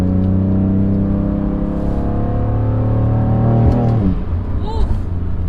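A tuned car with an aftermarket exhaust, lowering springs, intakes and a flash tune revs hard under acceleration, a loud droning engine note rising steadily in pitch close by before dropping off with an upshift.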